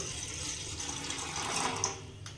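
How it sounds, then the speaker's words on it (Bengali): Water is poured into a tin bowl in a kitchen, a brief soft steady splashing stream heard alone. "বাটির মধ্যে আমি কিছুটা জল দেব"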